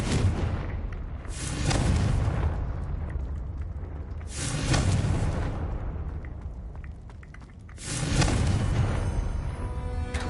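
In the Hogwarts Legacy video game, Bombarda and Confringo spells set off three heavy rumbling explosions a few seconds apart, each swelling and slowly fading back into a low ambient drone.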